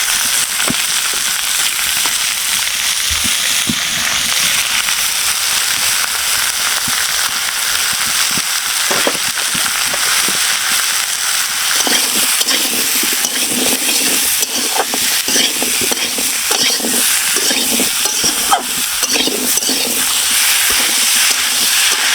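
Sweet pumpkin sautéing in a pan for a Bengali hilsa curry, a continuous loud sizzle with scraping and stirring clatters rising in the second half, no voices.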